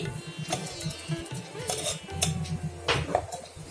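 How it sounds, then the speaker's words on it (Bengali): Cabbage paratha set down and flipped on a hot tawa, a few close metallic clanks and scrapes of the spatula against the griddle, with a soft sizzle underneath. "এখন একটা পরোটা আমি দিয়ে দিচ্ছি, একবার পাল্টে নিচ্ছি।"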